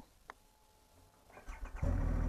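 A Triumph Rocket 3 R motorcycle engine cranks with a short whirring starter, then catches and settles into a loud, deep, steady rumble close by, with no talking.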